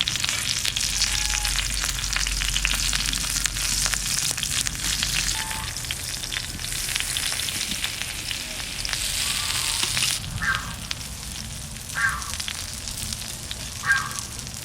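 Egg paturi wrapped in pumpkin leaves, made village style with country hen eggs, fries in a pan. A dense, steady sizzle carries on close and loud for many seconds, with occasional faint clicks and no talking.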